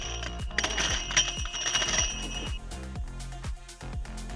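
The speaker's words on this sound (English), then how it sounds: "Me and my wind chime." A wind chime rings with bright, overlapping metallic tones that fade over the first few seconds, heard over a steady, rhythmic thumping beat.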